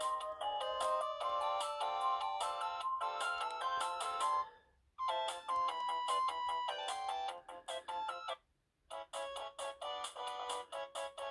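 Bright, beeping chiptune-style game music plays through the small speaker of a 2006 Sony Ericsson W810i phone, with no sound effects. The melody runs steadily with two brief drops to near silence.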